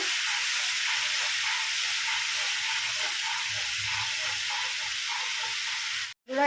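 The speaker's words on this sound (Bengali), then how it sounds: "এই যে মশলাটা গুলে রেখেছি হলুদ জিরে লঙ্কা দিয়ে আমি কিছুক্ষণ কষে থাকবো" A spice paste of turmeric, cumin and chili sizzles and fries in a pan, giving a steady, close, hissing crackle that continues unbroken until a brief cutoff near the end.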